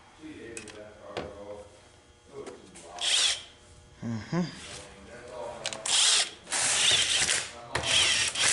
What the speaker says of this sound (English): I never tighten these tight with the impact wrench.